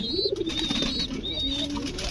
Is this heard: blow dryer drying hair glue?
no